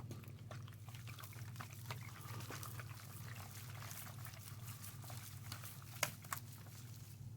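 Liquid is poured off from a French RCIR Menu #9 military ration, a faint, continuous trickling and splashing over several seconds with a couple of small knocks near the end.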